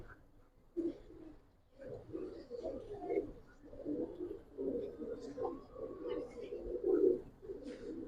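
Low, throaty cooing of Giribaz pigeons in a loft rolls on in repeated phrases, close and fairly quiet, with faint chirps and a voice in the background.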